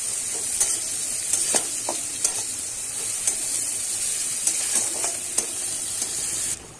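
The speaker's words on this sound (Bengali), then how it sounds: "এবার একটু ভাজা ভাজা করে নেব।" Chopped green chillies and onion fry in a pan with a steady, bright sizzle, broken by repeated scrapes and clicks of a spoon stirring, close and with no talking.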